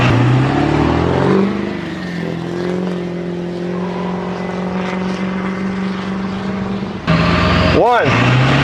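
Two Ford Powerstroke diesel pickups, a 6.7L and a 7.3L, racing with engines roaring under acceleration in a steady drone, followed by a brief passing swoosh near the end.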